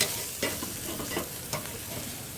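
Tandoori chicken pieces sizzle on a grill as they are shifted bone side down to the cool side, steady frying hiss broken by several sharp scraping clatters of tongs or pan, close and fairly quiet.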